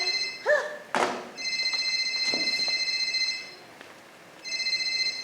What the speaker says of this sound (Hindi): अरे मोबाइल बज रहा, मोबाइल जाइए उठाइए।